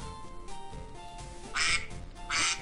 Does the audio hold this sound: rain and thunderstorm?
no